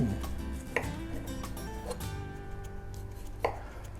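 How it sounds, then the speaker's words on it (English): Crisp chopping of firm apples with a knife on a cutting board, a few sharp cuts spread across the clip with steady kitchen background noise. "hearing the apples just slice is so cool"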